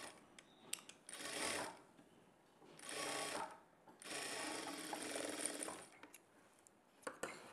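Close bursts of a sewing machine running a quarter-inch-margin seam on blouse cloth, three longer whirring runs broken by quiet gaps and a few small clicks of handling.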